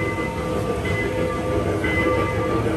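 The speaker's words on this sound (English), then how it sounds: "Taking a train to spread some random time." A passenger train ride heard from inside the car, with a steady rumbling roar and rail noise plus faint tonal whines running evenly throughout at a constant loudness.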